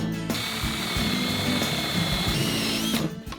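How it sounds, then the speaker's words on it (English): A power drill bores a hole through a floor during a gas direct-vent heater install, one steady loud whine running about three seconds before cutting off. "I'll take this back off and drill a hole through the floor"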